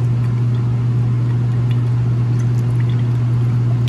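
Water pouring steadily to rinse Italian basil seeds, a constant loud rushing flow with a strong low hum underneath, unbroken throughout.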